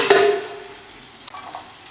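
Onion hits hot oil in a pan for a mutton kofta curry gravy, giving a sharp, close sizzle at the start that quickly fades, followed by a couple of faint stirring clinks.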